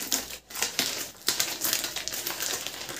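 Crinkling and scraping sounds come from a tightly fitted RGB LED light box being pried open, with several sharp bursts and rustles close by and no talking.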